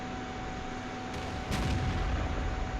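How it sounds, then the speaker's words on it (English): Tank cannon fire in World of Tanks from a T-34-85 shooting a T-29, a single heavy boom with a rumbling tail over steady game background noise, following a fainter earlier crack. "So T-34-85 puts a shot into this T-29."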